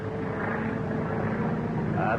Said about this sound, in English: It's a government plane.